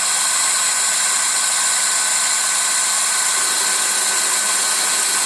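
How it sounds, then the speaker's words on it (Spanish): A lathe countersinks drilled holes in a revolver cylinder, a steady broadband machining whir with a constant high hiss running throughout, fairly loud and close, with no voices. "solo tengo que poner el avellanador y avellanar"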